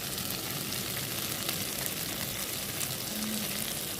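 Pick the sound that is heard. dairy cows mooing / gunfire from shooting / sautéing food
sautéing food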